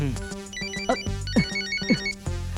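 A melodic phone ringtone plays steadily, a bright electronic tune repeating its short phrase over a low sustained tone, with brief thumps mixed in.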